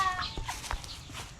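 A farm chicken clucks several times close by in a short, uneven series of clucks, with faint background noise and no speech.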